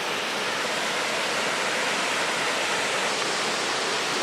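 Coal Creek Falls in New Zealand pours down in a steady, even roar of rushing water, close and loud, with no voices.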